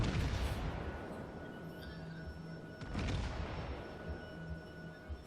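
Main guns of a New York battleship fire in a naval combat video game, a deep booming blast followed by a rumbling tail and a second heavy report midway, with no speech.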